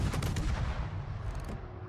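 Heavy naval guns fire in the World of Warships video game, as a Tier 10 Dutch cruiser opens up with a dense, booming rumble of overlapping blasts over about two seconds.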